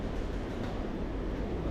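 A model railway train runs steadily on a layout, a continuous close rumble and rolling clatter with no voices over it.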